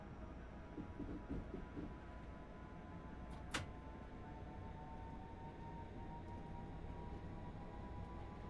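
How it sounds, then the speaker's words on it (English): A train rolls out of a siding at Beckenham with a metro-like hum, a faint steady rumble with a brief sharp click partway through and no voices. "Lijkt op een metro geluid."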